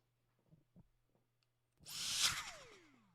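A few faint soft clicks, then a sudden loud hissing burst that whooshes and fades, like a sharp puff of air imitating a sneeze.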